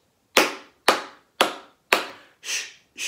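Four sharp claps fall in a steady, even beat, each a crisp broadband hit with a short decay, followed by softer hissing shushes, all close and clear with no talking, a simple rhythm for a children's music and maths session.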